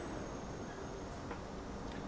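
Large train in the video game Transport Fever 2, a steady low rumbling roll with faint clicks, continuous and moderately close over a few seconds, no talking.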